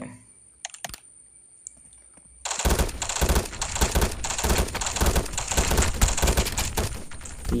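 Gunfire from a gun in a Roblox shooter game: a few faint pops at first, then a sustained, loud burst of rapid automatic fire that runs steadily for about five seconds.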